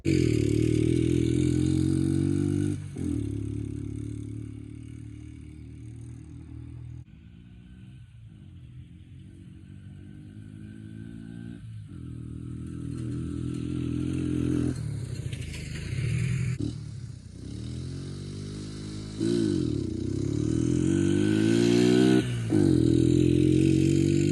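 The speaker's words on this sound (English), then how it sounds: "let's get an acceleration test and see just how slow the bike is." A Honda XL80S dirt bike with almost no compression accelerating, its thin small engine revving up through rising pitch sweeps, easing off and climbing again, loud and close at first, fading mid-run, then returning near, no talking.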